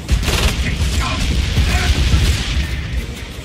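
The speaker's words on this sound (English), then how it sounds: "Look out, he's got explosive grenades." Grenade explosions and gunfire during a Killing Floor 2 boss fight, a dense continuous barrage of booms and bursts lasting the whole stretch, loud and close, with no clear pauses.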